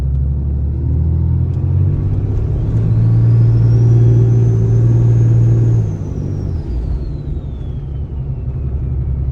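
A 2013–2018 Cummins 6.7 diesel pickup with a BMP add-a-turbo kit drives past with a loud, steady engine rumble. A high turbo whistle rises, holds for a few seconds and then spools down.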